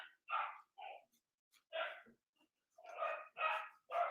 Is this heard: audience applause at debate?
no